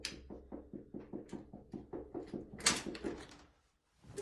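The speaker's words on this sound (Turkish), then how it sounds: "sonra da kadın hırsız aparatla kapıyı açtı." A woman burglar working a door open with a tool, heard as a run of rapid, regular knocks and rattles at the lock, then a louder scraping clatter before a brief silence.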